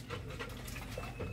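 A dog pants steadily and close by, quick rhythmic breaths repeating throughout under a low background hum, with no talking.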